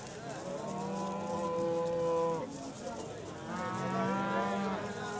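Cow mooing at a busy livestock bazaar in Fergana, two long drawn-out moos close by, the second rising, over a background of crowd murmur.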